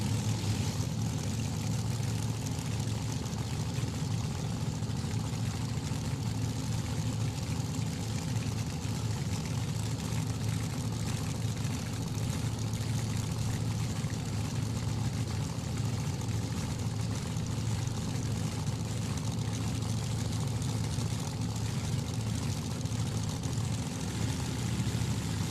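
Pair of alcohol-burning fuel altered drag cars idling side by side at the staging beams during qualifying, a continuous loud, dense engine rumble that holds steady without pause.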